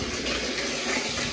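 Off-grid rainwater pours steadily from a pipe or outlet, a close, continuous broadband gush of flowing water with no voices.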